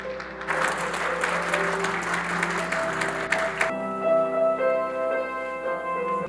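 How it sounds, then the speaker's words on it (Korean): An award ceremony audience applauds a new-technology certificate presentation. Steady clapping from a seated crowd runs for several seconds, then cuts off abruptly, leaving a sustained tonal hum. "큰 박수로 맞이해 주시기 바랍니다."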